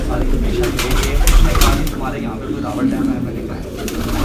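A pigeon coos close by, soft repeated throaty calls over a low rumbling background, with people talking nearby.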